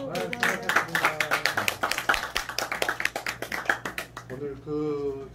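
An audience gives a steady, rhythmic round of applause after a humanities lecture at the Gwangju Cultural Foundation, with close sharp claps that fade as a voice speaks.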